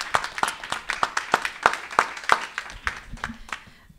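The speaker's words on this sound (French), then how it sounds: "Oui, ils méritent une main d'applaudissement." Scattered audience clapping at a provincial election candidates' debate in Quebec, a dozen or so distinct, fairly sparse claps in an uneven rhythm from a small crowd, thinning out toward the end.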